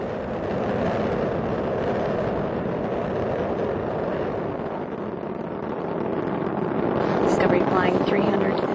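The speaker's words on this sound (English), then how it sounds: "Discovery's engines are throttling down as the orbiter passes through the area of maximum pressure on the vehicle." Space Shuttle Discovery's rocket engines roar during launch ascent, heard as a loud, continuous broadband rumble that holds steady throughout, with a faint thin tone near the end.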